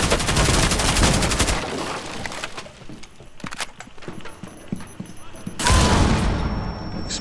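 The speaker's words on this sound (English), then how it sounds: "Explosions everywhere." Rapid bursts of gunfire and blasts from a Rainbow Six Siege match, loud dense volleys at the start and again near the end with scattered sharp shots between, and a voice talking faintly in the middle.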